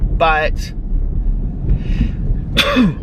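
One sharp, loud human sneeze bursts out near the end, after a few breathy vocal sounds and a brief spoken word.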